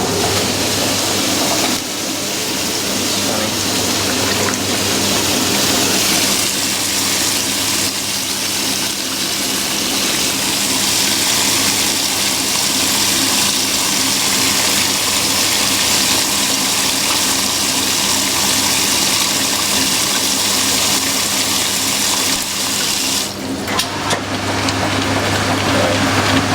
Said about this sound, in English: Splashing all over the place.